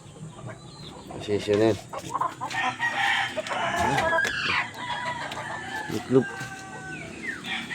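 A white kelso gamecock rooster clucks and crows near the microphone in a sequence of calls, while someone talks quietly over it.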